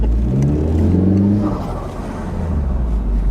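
A turbocharged Chrysler PT Cruiser Turbo Convertible Touring with 89K miles accelerates hard from inside the car. The engine note climbs steadily, shifts about halfway through, then keeps pulling with a steady, fairly loud drone.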